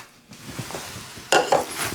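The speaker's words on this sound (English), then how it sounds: "what I'll do is just whisk this around" A whisk scrapes and clinks against a pan as milk is stirred, with a soft swishing followed by two louder metallic taps close by.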